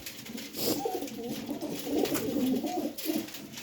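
Pigeons coo repeatedly at close range at a pigeon seller's, their soft throaty calls rolling and overlapping through the whole stretch with steady background noise.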